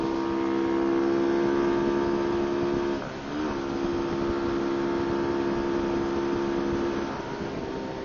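A motorboat engine drones steadily and close for the whole stretch, a low, even hum with a brief dip in pitch and level partway through, no voices over it.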